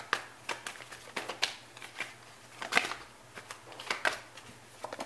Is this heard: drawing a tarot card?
yes